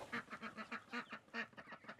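Ducks in a chicken coop quack in rapid, repeated, fairly faint calls, with guinea fowl and chicks sharing the enclosure.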